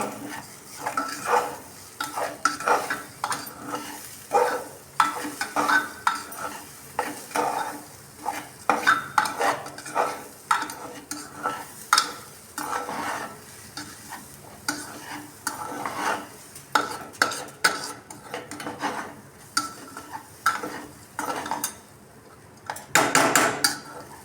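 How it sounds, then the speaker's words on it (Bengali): A spoon stirs sugar, black pepper and garam masala into basanti pulao, a simple low-oil version made without ghee, in a pot. Repeated close scraping and clinking strokes come in an uneven rhythm over a soft sizzle, with no talking. "দিয়ে আমি আবারও একবার এটাকে মিশিয়ে নেব"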